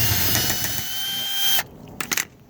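A power tool whirs steadily while backing out the headlight screws on a 2008 Yukon, then cuts off abruptly, followed by a few brief clicks and rattles.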